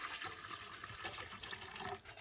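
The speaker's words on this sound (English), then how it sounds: "dump in some warm water" Warm water is poured into a kitchen bowl for yeast dough, a continuous, close splashing stream that runs for about two seconds and then tapers off.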